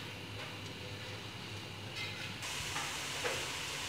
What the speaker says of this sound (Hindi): हम प्याज को काट के एक प्याली तेल गरम करके इसको ब्राउन कर लेंगे